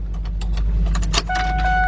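Car keys jangle briefly inside a 1999 Ford Expedition over a steady low engine hum, followed by a sustained electronic chime tone.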